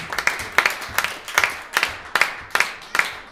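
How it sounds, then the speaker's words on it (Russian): Concert audience applause after a string quartet performance, heard as a steady rhythmic clapping in unison with regular loud beats, fairly close and with no voices over it. "Вы хорошо хлопаете, но это не конец."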